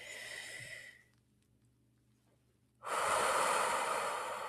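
Close, slow deep breathing: a long breathy exhale fades into near silence, then a strong, steady rush of air as the next deep breath begins.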